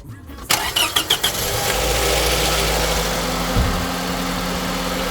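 A 2003 Toyota Noah engine cranks with a few quick stutters, catches, then settles into a steady, low idle hum close by.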